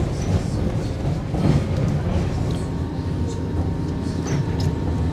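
A Paris Metro Line 7 bis train runs with a steady, loud rumble and rattle of wheels and carriage, with faint clicks and a low hum throughout.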